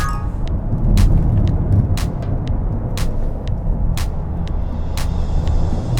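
Hyundai Tucson N Line cruising in normal mode on a winding country road in Germany: a steady, loud in-cabin engine and road drone with occasional small clicks, and no talking.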